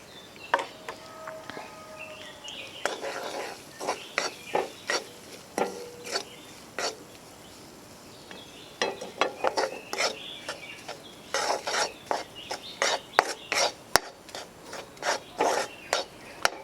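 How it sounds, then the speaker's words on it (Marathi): Gram flour being roasted in ghee in a kadhai, with repeated scraping and rasping strokes of a spoon against the pan in uneven bursts, close and moderately loud, with no talk. "आता मी इथे घेतलं आहे बेसन साधारण पाव वाटी बेसन घेतलं आहे हे पण आपण भाजून घेऊया"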